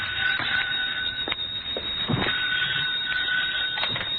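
A telephone rings in an old-time radio drama. The bell comes in repeated bursts through a thin, band-limited sound, with a steady electric ring between the sharper clicks of the bell.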